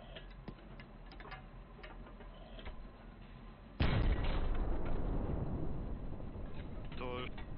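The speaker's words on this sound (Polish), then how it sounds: "Gdzie to wybuchło?" Artillery shells exploding in the World War II shooter Hell Let Loose: faint ticks and distant thuds, then one loud close blast that rolls on as a long rumbling tail.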